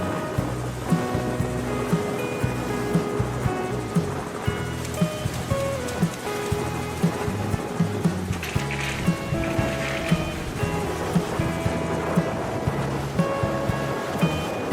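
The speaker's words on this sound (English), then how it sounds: "On the deck, the sound of the engine roars. The sound of the anchor rope is squealing and the sound of the waves blend together" A fishing boat heads out at sea in the Atlantic for the spiny lobster season, its engine humming steadily under rolling ocean waves, with a regular rhythmic clatter and splash throughout.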